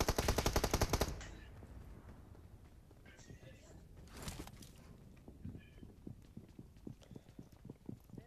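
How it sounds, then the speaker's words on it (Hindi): Bursts of automatic gunfire in PUBG Mobile, a loud rapid volley at the start followed by scattered fainter shots and footsteps, with players talking over the game sounds. "मेन पे अभी फायरिंग हुई"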